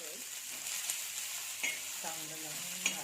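Fenugreek leaves with chopped onion, red chilli powder, turmeric and salt stirred in an oiled pan, giving a steady soft sizzle with a few spoon scrapes and taps, close and alone without talk.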